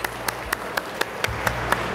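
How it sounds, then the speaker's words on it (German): Audience clapping on command at a satirical CSU party congress hall, heard as a steady rhythmic beat of claps roughly every quarter second over a low crowd murmur. "Immer klatschen, gell?"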